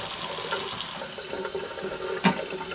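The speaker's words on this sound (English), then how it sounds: "kind of at an angle and just rinse it with room temperature water" A steady stream of room-temperature tap water runs over a sewing machine bed plate held at an angle in a sink, a continuous close splashing rush with a brief louder splash near the end.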